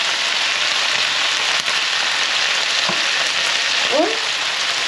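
Dried porcini mushrooms sizzle loudly in a hot pan as they are stirred, a dense, steady hiss with a couple of scraping utensil sweeps near the end.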